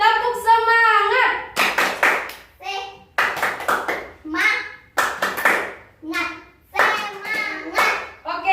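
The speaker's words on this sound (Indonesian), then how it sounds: "Kita ulang lagi ya. Tepuk semangat." Schoolchildren repeat the 'tepuk semangat' clapping chant. Crisp group claps come in rhythmic clusters between loud chanted voices, close and energetic throughout.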